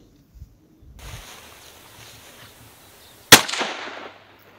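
A suppressed rifle firing a Magnum cartridge from a level bench rest outdoors, heard as one sharp, loud report with a short decaying tail, preceded by a few quiet handling thumps and faint background hiss.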